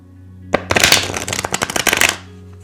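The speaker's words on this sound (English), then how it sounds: "Let me just reshuffle in order to allow the energy to flow." Oracle cards being reshuffled by hand, a brisk rapid riffle of papery flicks lasting under two seconds, close and clear against a faint steady hum.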